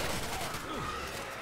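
Rapid bursts of gunfire in the co-op zombie shooter Left 4 Dead 2, a dense fusillade of close shots over game noise.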